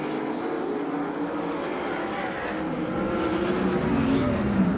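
USAC/CRA sprint cars roar around the track in a heat race at Perris, California, a loud continuous engine drone with rising and falling pitch as cars pass, filling the whole clip without a break.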